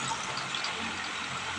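Water is scooped and poured with a small mug to fill a container at home, a close, steady watery splash and trickle with no speech.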